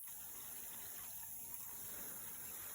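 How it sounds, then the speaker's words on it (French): Water gushes steadily into a recovery bucket while carbon is rinsed away from gold recovered from computer parts, a constant, soft, close splashing flow with no voices. "on peut voir le seau du bas de récupération qui se remplit"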